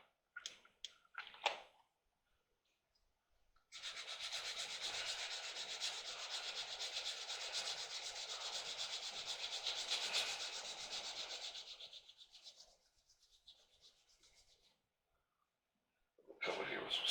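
600-grit sandpaper rubs steadily on a 1/16 scale JagdTiger tank model kit for about eight seconds, a close, soft, hissing scratch. Brief handling noises come before and after it.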